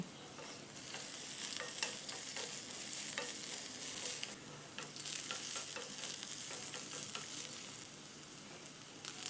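A finely chopped medium onion fries in hot oil for a curd chutney, giving a continuous close sizzle broken by repeated scraping stirs of a spoon against the pan.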